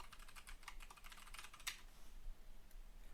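Rapid typing on a computer keyboard as a shader name is entered, a quick run of close, light key clicks with no talking.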